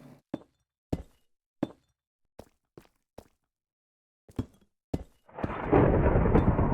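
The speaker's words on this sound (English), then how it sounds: "that's the 3rd thunderstorm since I started recording" In Minecraft, a string of sparse, sharp knocks and taps plays against silence, then a thunderstorm breaks with a sudden loud crack and a sustained roar of thunder and rain that lasts until the end.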